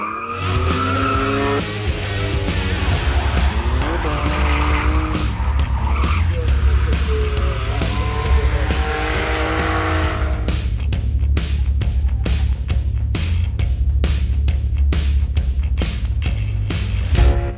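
Drift cars skidding around a competition track in Lithuania, their loud, sustained engines and squealing tires roaring continuously, with a burst of rapid pulsing revs in the later half.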